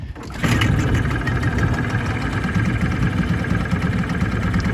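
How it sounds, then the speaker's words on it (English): A 1988 Mercury Tohatsu 5hp single-cylinder, loop-charged two-stroke outboard idles on a boat with a steady, even putter that starts abruptly and runs on close and moderately loud, with no talk. "It idles better than I had suspected it might for a single cylinder loop charged engine"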